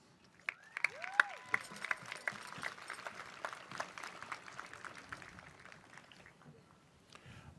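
Applause at a nursing and health science graduation ceremony for a graduate as a name is read, a moderate spread of clapping from a large hall with scattered cheers and whistles, fading toward the end.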